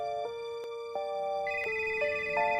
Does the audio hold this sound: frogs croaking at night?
no